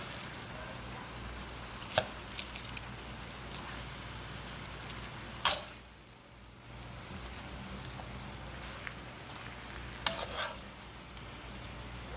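Squash and zucchini sizzle softly in a pan while being tossed to caramelize, with a quiet frying hiss broken by a few sharp scraping and clattering knocks of a utensil.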